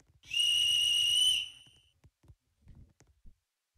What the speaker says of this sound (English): He's just blowing his whistle.